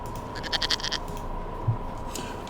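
A goat bleats in a short run of wavering calls over steady background hum, fairly close and moderately loud, with a faint low thump afterward.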